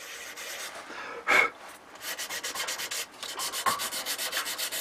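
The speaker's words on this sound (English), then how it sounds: "I just sand like this" Turned wooden bowl hand-sanded on a lathe, rhythmic rasping strokes of sandpaper in quick regular pulses, close and clear, with a brief louder scrape early on and no talk.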